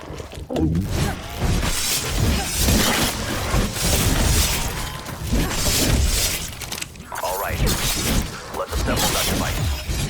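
A crystal is destroyed with an axe in Call of Duty Zombies on the Forsaken map, a dense stretch of glassy shattering and crashing effects under game noise and what sounds like a talking voice, fairly loud throughout.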